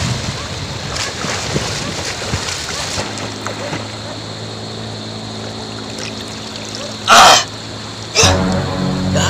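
A person bathing in sea water, with choppy splashing and wave wash under wind noise, then two loud close bursts of splashing near the end.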